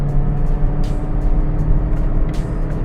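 A Mazda2 SkyActiv engine roars at full throttle, its aftermarket exhaust booming with a deep, steady rumble that stays loud throughout, with no voices.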